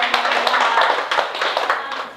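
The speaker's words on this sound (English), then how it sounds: "give Jamie a big clap" An audience claps together in a burst of steady, fairly close applause at a talk on making the most of markets, with some murmured voices mixed in.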